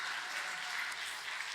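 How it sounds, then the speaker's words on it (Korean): Brief burst of applause from a church congregation during a deacons' seminar service, steady and full for the whole moment. "박수 한번 쳐줘, 박수."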